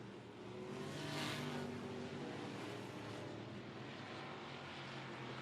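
Race cars at 105 Speedway roar past in a steady, loud engine drone that swells briefly near the start, then holds evenly with no voices.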